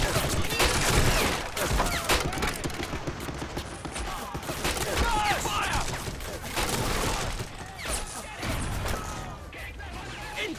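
Dense, continuous battlefield gunfire from Men of War: Assault Squad during a Commonwealth Operation Torch mission, with overlapping rifle and machine-gun bursts and crashing impacts that stay loud for the whole stretch, with voices mixed in.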